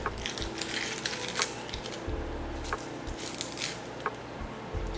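A knife slices down through a red onion on a cutting board, giving crunchy, crackling cuts and a few sharp taps of the blade against the board, close and continuous.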